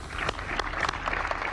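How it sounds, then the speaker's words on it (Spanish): Brief burst of audience applause at a local gathering in Tocopilla, Chile, a dense scattered patter of clapping heard alone for a moment. "démosle un aplauso"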